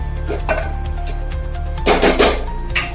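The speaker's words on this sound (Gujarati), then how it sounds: "હવે એને હલાવી દઈશું" A spoon stirs coriander-cumin spice powder into Gujarati dhokli shaak in a cooking pot. Soft scraping and clinks give way to a brief burst of louder scraping near the end, over a steady low hum.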